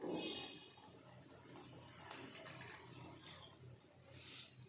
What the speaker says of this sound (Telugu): ఇందులో కొంచెం వాటర్ వేయాలి